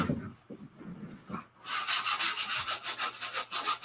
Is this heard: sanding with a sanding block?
yes